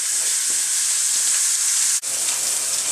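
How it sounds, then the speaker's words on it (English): A rib roast sears in a hot pan ahead of slow cooking in a crock pot, giving a loud, steady broadband sizzle with no one talking, broken by one brief dip near the end. "So what I'm going to do is I'm going to sear this on all sides,"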